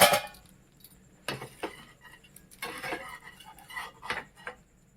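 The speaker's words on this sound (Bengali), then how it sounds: "আমি আবার ঢাকনাটা খুলে নিচ্ছি।" A metal pot lid clanks and clinks in a kitchen while a paneer roll is being made, giving a sharp opening clatter followed by several lighter scattered knocks, fairly close, with no talking.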